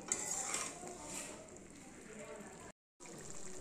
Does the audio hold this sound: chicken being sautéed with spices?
yes